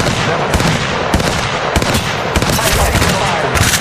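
Rapid automatic gunfire in the mobile battle royale game Apex Legends Mobile, loud and dense, with sharp bursts and repeated shots stacking over continuous combat noise throughout.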